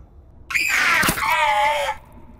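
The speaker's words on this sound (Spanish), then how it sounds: "también sabía que venía ese grito" A sudden shrill scream from the horror video game Amanda the Adventurer, loud and close, rising abruptly and holding for about a second and a half before cutting off into quiet.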